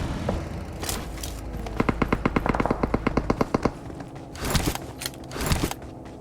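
Video game gunfire cracks out in a rapid burst of evenly spaced automatic shots, followed by a few heavier blasts, loud and close with little talk over it.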